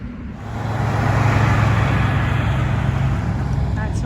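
Steady road rumble and tire roar from inside a car driving down a highway in Wyoming, loud and continuous with a low engine drone throughout.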